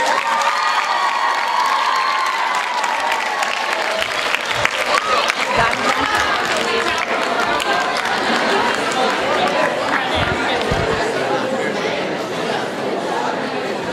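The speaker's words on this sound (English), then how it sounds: "Can we give a round of applause to the first half of the poll?" A crowd at a middle school poetry slam gives sustained applause mixed with cheering and lively chatter, a dense, loud wall of clapping and voices throughout.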